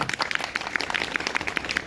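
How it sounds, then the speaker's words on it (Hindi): A crowd at a poetry gathering in Patna applauds itself, a short burst of brisk, scattered hand claps from many people, steady and moderately loud, with no voices heard. "चलिए एक बार जोरदार ताली आप अपने लिए बजाए जरा"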